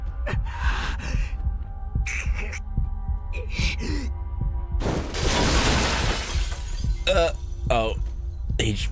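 A glass table shatters as a sound effect in the visual novel Tsukihime: a loud crash with a burst of scattering glass midway, set against throbbing heartbeat-like pulses, gasps and a low hum, with no talking.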